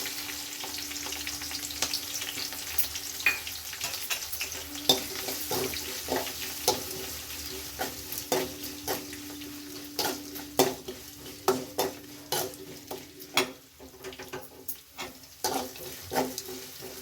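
Green chillies and onion frying in a pan, with a continuous light sizzle under repeated rhythmic scraping and clinking of a spatula stirring against the metal, heard up close and without talk.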